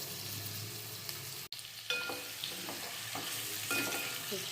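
Nalli bones are stirred in a pot with salt and turmeric over heat, giving a steady close-up sizzle with repeated spoon scrapes and clinks against the pot.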